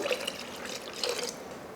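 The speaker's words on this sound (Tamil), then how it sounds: "நம்ம கிரைண்டரை கழுவினோம் இல்லையா, அந்த தண்ணியை இதில் சேர்த்துருவோம்." Water left from rinsing a grinder pours and splashes briefly into thick appam batter, a short close trickle with a couple of wet gurgles.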